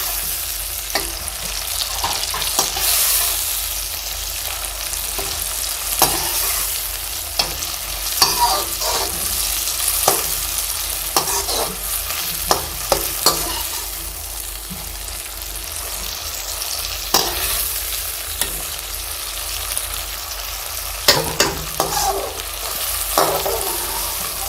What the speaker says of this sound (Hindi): लहसुन को भी इसके साथ प्याज के साथ हम फ्राई करेंगे।